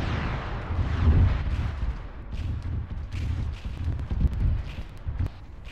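Artillery fire in a military video game comes as deep, rumbling booms and low blasts that swell and fade repeatedly, fairly close, with a faint breathy wind-like noise over it.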